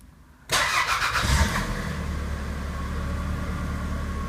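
A 1996–2000 Toyota RAV4 that has sat overnight starts up close by: a sharp crank catches into a loud engine burst, then settles into a steady, even idle rumble.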